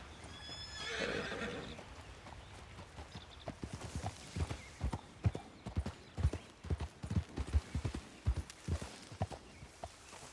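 A video game horse whinnies, then hooves clip-clop in an uneven, quick rhythm on hard ground, fairly close and clear with no talking.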